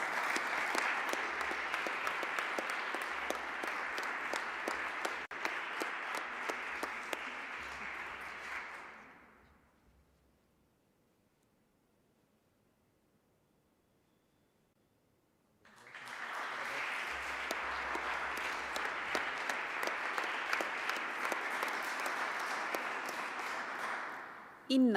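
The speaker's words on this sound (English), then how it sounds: "We ask for applause for Veronika Nezelski." Audience applause at a graduation ceremony (sponsion) for an executive management programme, a dense, sustained clapping that fades out around ten seconds, leaves a stretch of near silence, then swells again at full strength.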